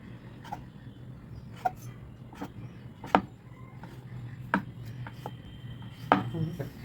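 A knife cuts through rolled-up oats chapathi dough, landing in sharp, separate taps on a board every second or so, close and clear over a low background hum.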